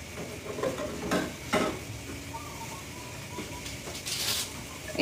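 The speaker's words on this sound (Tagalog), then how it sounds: "Painitin muna natin yung mantika, guys. Ayun, kawali." Cooking oil heats in a wok (kawali), giving a steady hiss and crackle of sizzling with occasional louder pops, close and continuous without talk.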